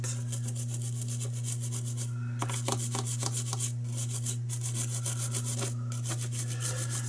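Steady brisk scrubbing of a small brush over an air conditioner's circuit board, continuous with brief pauses, over a constant low electrical hum.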